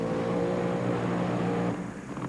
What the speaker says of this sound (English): The engine coming to life in Snow's car from Fort Worth, Texas